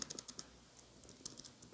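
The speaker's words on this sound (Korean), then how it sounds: "좀 그냥 키보드로 쓰겠습니다" Keys clatter on a computer keyboard in a quiet room, a quick irregular patter of faint clicks in short bursts, with no talking.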